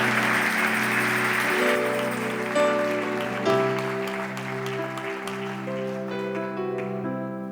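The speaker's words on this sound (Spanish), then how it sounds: "denle un aplauso al Señor, denle un aplauso al Señor" Church congregation applauding during a worship service, a steady broad wash of clapping that continues under sustained organ or keyboard chords and gradually thins toward the end.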